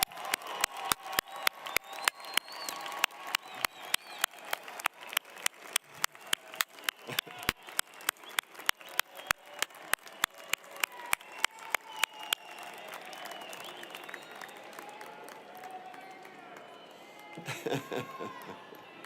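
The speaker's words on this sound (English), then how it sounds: "please join me in giving them a round of applause for all their support" Audience at a University of Wyoming winter commencement applauds graduates' loved ones. Crisp, evenly spaced claps sound close by over a softer crowd for about twelve seconds, then fade to murmur before a brief final burst of clapping.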